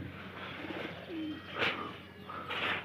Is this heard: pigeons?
yes